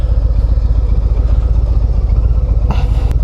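A 2025 Harley-Davidson Breakout cruiser engine rumbles steadily while riding, a loud low pulsing throb with a brief clatter near the end.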